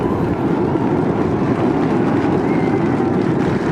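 Roar of a SpaceX Starship rocket at liftoff: a dense, steady broadband rumble with heavy low end, loud and continuous without breaks or voices.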